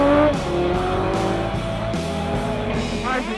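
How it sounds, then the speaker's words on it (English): A 1981 Honda CB1100RB racing motorcycle at speed on the closed public-road circuit at Bathurst, its engine note loud and close, rising and falling through gear changes with no talking. "Dennis Neal exercises the immensely powerful Honda 1100 around the 6 kilometres of closed public roads"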